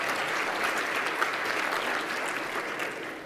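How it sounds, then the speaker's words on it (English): An audience at a tech talk breaks into steady applause, a dense wash of many hands clapping at moderate distance, continuing evenly without voices. "Everybody give David a round of applause."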